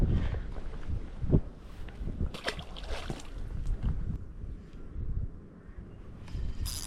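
Gusty wind buffets the microphone with uneven low rumbles and bursts, outdoors while fishing, loud and rough throughout with no clear talk.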